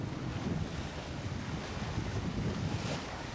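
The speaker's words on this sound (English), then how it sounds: "plowing through the swells here in the banks" A boat plowing through ocean swells on the banks, heard as a steady wash of waves and water rushing along the hull mixed with wind noise, continuous and fairly quiet with no voices.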